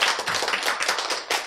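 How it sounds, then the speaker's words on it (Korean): A congregation claps during a church lecture, a short burst of brisk, close clapping with uneven pulses that carries on for a moment and ends in a final cluster of claps, with no voices over it. "자, 박수!"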